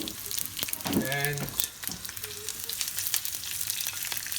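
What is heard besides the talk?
curry leaves and green chilies sizzling in hot oil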